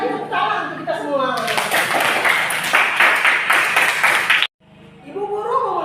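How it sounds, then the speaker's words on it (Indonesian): Classroom children clap together in a lesson, a burst of quick, bright, overlapping handclaps lasting about three seconds, with a teacher's voice talking before and after. "Sekali lagi tepuk tangan untuk kita semua."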